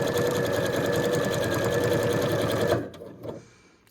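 Sewing machine stitching fabric for a quilted card, running at a steady fast pace for nearly three seconds before stopping, with a few soft mechanical clicks trailing off afterward.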